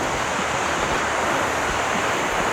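Steady broadband rushing of a river flowing far below a deep drop, continuous and even, mixed with wind.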